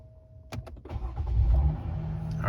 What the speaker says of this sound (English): Okay, so I'm going to start the vehicle now.